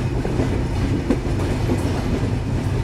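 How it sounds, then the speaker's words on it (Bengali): The Sundarban Express runs on its rails near Khulna, a steady heavy rumble with faint rhythmic wheel clatter heard from inside the moving train. "আমাদের সুন্দরবন এক্সপ্রেস প্রবেশ করবে বিভাগীয় জেলা শহর খুলনা জেলার খুলনা রেলওয়ে স্টেশনে"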